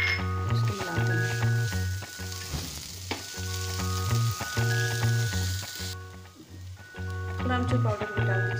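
Spiced potato masala with salt, chopped coriander and amchur powder frying in a pan: a continuous sizzle with repeated stirring scrapes, while steady tonal background music plays throughout.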